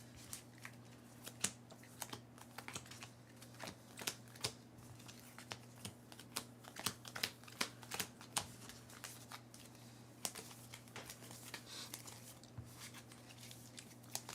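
A deck of cards for the Earthborne Rangers board game is riffled and shuffled repeatedly at close range, crisp fluttering bursts and taps coming in quick irregular runs over a faint steady hum.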